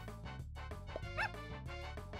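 A cartoon puppy from the Super Auto Pets video game barks in a short yippy burst, heard alone against steady upbeat game music.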